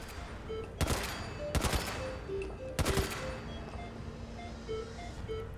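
Automatic weapon fire in the Fallout 4 shooting game, three loud rapid bursts of gunfire separated by short pauses, over a low background hum and faint game tones.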